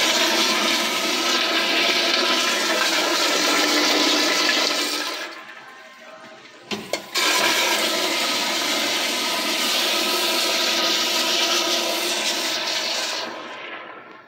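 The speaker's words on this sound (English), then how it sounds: "Five flushes for 25 feet." Toilets flushing in a Holiday Inn men's restroom with Crane, Mansfield and American Standard fixtures: a loud, steady rushing flush that fades, then a couple of clunks and a second strong flush that trails off, with no talking.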